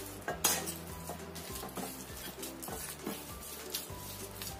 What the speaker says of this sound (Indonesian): Yang penting tinggal campur rata aja.